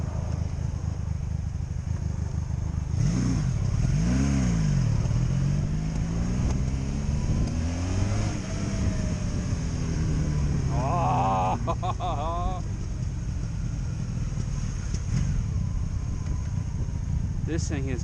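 A 2002 Honda Magna VF750C motorcycle out on the road after eight years, engine note rising and falling through several accelerations with steady wind and road roar, a voice talking over it.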